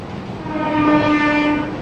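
An AC EMU local train at Dum Dum Junction station sounds a loud, sustained horn note rising over the rumble of the rails, close and prominent for the whole moment.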